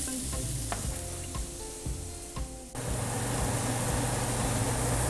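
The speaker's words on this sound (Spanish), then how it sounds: "nuestros champiñones y el tocino ya tienen 2 minutitos de cocción" Sliced mushrooms and bacon sizzle steadily in a hot pan for a steak sauce, with a few sharp spatter pops early on before the frying swells into a louder, denser hiss. No one speaks.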